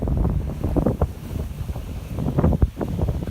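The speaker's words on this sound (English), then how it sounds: "My goodness, it is very windy today." Strong gusty wind blows outdoors beside a house, buffeting the microphone with a loud, continuous low roar that surges and dips, with no voices.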